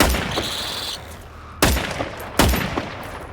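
Gunfire in the video game Generation Zero: a sharp burst opening the clip, then two loud, separate gunshots about a second apart, each with a short echoing tail over low background hum.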